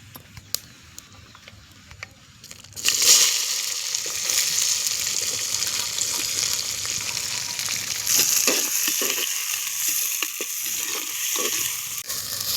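Steady loud sizzling of chopped onions hitting hot oil in a pan, starting abruptly after a quiet moment and crackling continuously, with occasional stirring noises.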